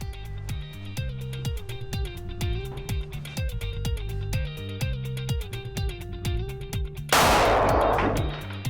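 Repeated gunshots ring out during partner shooting drills at a shooting school, a steady rhythm of sharp loud reports at near-regular intervals, ending in a burst of broadband noise.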